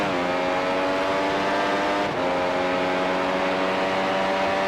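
A McLaren MP4-30 race car in iRacing at Sebring, its engine droning loud and steady at high revs along the back straight, with a brief dip around the middle as it shifts before pulling on.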